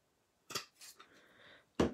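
Scissors snip through a paper card piece for a Stampin' Up! greeting card in two short close bursts with a brief quieter rustle between them, no voices.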